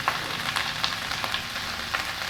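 Cabbage stir-frying in a pan gives a steady, close sizzle with small crackles and pops scattered through it, and no talking over it.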